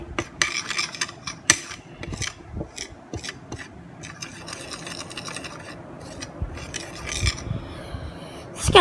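Shampoo slime is stirred in a bowl with scraping, rubbing and clicking strokes, uneven and close, with a few louder knocks against the bowl.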